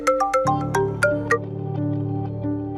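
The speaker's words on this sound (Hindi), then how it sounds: "आपका फोन बज रहा है।" A melodic electronic phone ringtone plays a quick run of bright chiming notes, then settles into a sustained tone, fairly loud and close with no talking.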